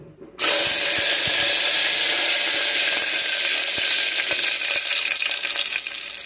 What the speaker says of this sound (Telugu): తాలింపు గింజలు ఎండుమిరపకాయలు వేసిన తర్వాత కరివేపాకు